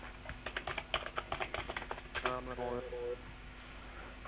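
Keys clatter in a quick, uneven run on a USB keyboard connected to a Commodore Amiga 600 through an adapter, the clicks close and moderately loud, followed by a short tonal hum.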